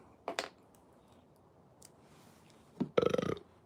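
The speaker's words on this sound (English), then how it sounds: "People don't like belches." A person belches indoors, a short burp near the start and a longer, louder, rumbling belch near the end, with faint clicks between and no speech.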